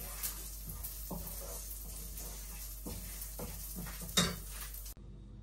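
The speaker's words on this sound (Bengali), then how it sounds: "এখন এই যে ডালটা দিয়ে ডালটা ভেজে নিব" Dal frying in oil in a pan, with fish head to follow, gives a steady low sizzle under occasional stirring scrapes and a sharp clink of a utensil against the pot near the end.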